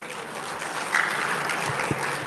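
A crowd of Islamic boarding-school students breaks into brief applause during a religious sermon, a dense and steady patter of clapping that lasts a couple of seconds.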